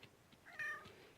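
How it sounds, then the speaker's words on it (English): A cat gives one short, faint meow amid quiet outdoor background noise during garden work in rocky soil. "That's my kitty cat."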